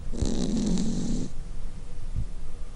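A cat snores close by, a long rumbling inhale followed by a softer breath, with steady faint background hiss.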